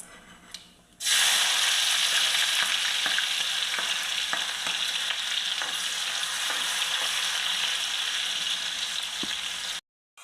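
After a quiet second, cumin and onions hit hot oil in a pan with a sudden loud burst of sizzling. The steady close frying hiss carries scattered crackles and pops, then cuts out abruptly near the end, with no voices.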